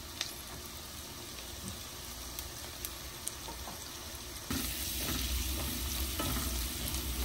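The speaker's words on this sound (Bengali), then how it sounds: "হালকা গোল্ডেন ব্রাউন করে ভেজে নিচ্ছে" Spices frying in a pan for a Bengali red spinach dish with tiny shrimp, a steady close sizzle with occasional stirring scrapes, growing louder and denser partway through, no voices.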